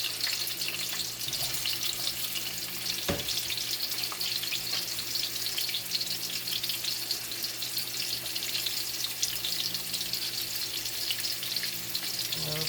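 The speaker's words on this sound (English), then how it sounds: "this here is just going to be a stir fry of the green beans and the turnips" Green beans and turnips stir-frying in hot oil, giving a continuous steady sizzle with a faint watery hiss and one sharp clatter partway through, with no talking.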